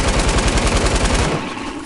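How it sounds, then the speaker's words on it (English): Pistol gunfire in Fortnite, a loud, rapid string of about fifteen close shots in quick rhythm that cuts off and fades after about a second and a half. "Oh, they're busting pistols."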